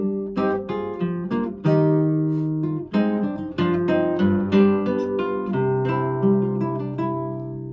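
A guitar plays a passage from John Dowland's galliard for the Earl of Essex, the chords plucked in a lilting hemiola rhythm, close and clear with no voices.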